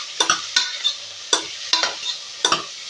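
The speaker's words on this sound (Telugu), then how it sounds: "ఉల్లిగడ్డలు పచ్చిమిరపకాయలు అయితే కోసుకొని ఇగో తాలింపు వేసేసినాను" Sliced onions and green chillies in tempering oil for a Telangana mutton curry, stirred with a spatula: sharp scraping strokes against the pan in an irregular rhythm over a soft, close sizzle, with no voices.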